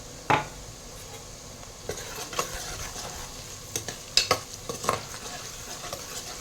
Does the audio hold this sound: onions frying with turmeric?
yes